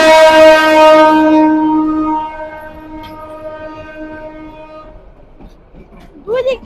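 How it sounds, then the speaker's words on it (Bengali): Trains approach from two directions on railway lines, one sounding a long, loud horn that slowly fades, followed by low rumble and a few people talking near the end. "দুই দিক দিয়ে দুইটা রেল আসলো,"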